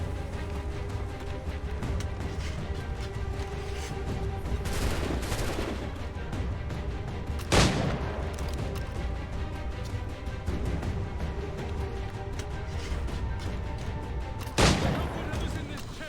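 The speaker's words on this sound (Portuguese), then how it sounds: "os caras dão um tiro, erra, daí tem que ficar meia hora carregando, colocando pólvora, colocando a bala" Musket gunfire in the PC game Assassin's Creed III, with two sharp loud shots standing out over a constant dense battle din and scattered distant firing.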